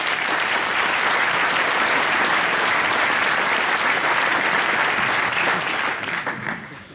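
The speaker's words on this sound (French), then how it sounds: "je vous demande de les applaudir" Sustained, dense applause from an audience at a 2015 New Year address in Les Sables d'Olonne. It is loud and steady for about six seconds, then thins and fades at the end.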